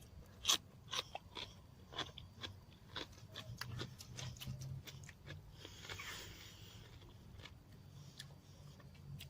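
Someone chews crunchy pickled cabbage up close, with a quick series of sharp crisp crunches at first that soften into quieter, irregular chewing.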